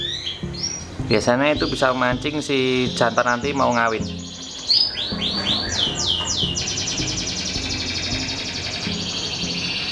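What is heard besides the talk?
canary song played from phone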